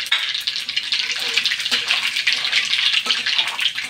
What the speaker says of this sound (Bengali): তো আমি এতে দিয়ে দিচ্ছি কালো জিরে